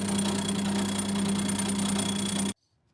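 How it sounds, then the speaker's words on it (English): Neck thinner grinding down the wooden neck of a handmade acoustic guitar, a loud continuous buzzing rasp that cuts off abruptly near the end. "Here I am thinning the neck with a neck thinner."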